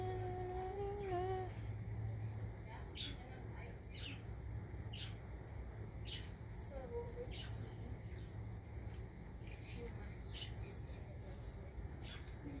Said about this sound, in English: There's Lexi's birds.